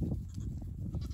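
Several goats bleating as they get acquainted and sort out their pecking order, a dense, continuous mix of nearby animal calls filling the moment without any talk.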